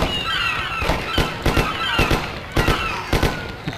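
Sharp bangs burst out irregularly, several in quick clusters, loud over a steady background hiss, like gunfire echoing in the game Mafia, during a fight at the docks.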